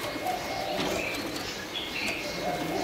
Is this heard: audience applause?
no